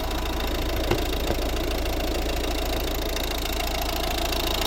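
A 2011 Volvo V50 with a 1.6 D2 diesel engine from Peugeot Citroën idles under an open bonnet: an even, close diesel rumble with a faint regular knock and a couple of brief clicks, with no talk.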